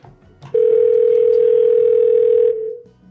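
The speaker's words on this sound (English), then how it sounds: "I'm gonna dial up." A steady, loud telephone dial tone holds for about two seconds, then cuts off, with faint background noise before and after.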